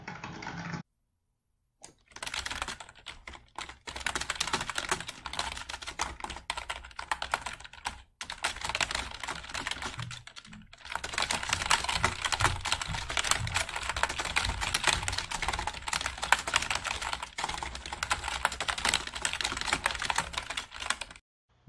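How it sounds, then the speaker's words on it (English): Very fast typing on a computer keyboard during a competitive programming contest, a dense continuous clatter of keystrokes close up, with a couple of brief silent gaps, no voices. "The typing speed on this person is crazy."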